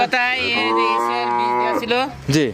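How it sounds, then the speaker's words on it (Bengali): A Holstein Friesian cow moos loudly and close by in one long, drawn-out low call, followed by a shorter rising bellow at the end. "ফিজিয়ান হলস্টিয়ান ফিজিয়ান জাতের গাভী"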